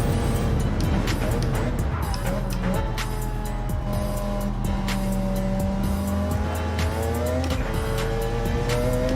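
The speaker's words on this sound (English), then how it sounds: "look at the Group C cars just blast off" Group C race cars in the Gran Turismo 7 video game roar as they accelerate, with loud sustained engine drones that rise steadily in pitch, layered over one another and running throughout.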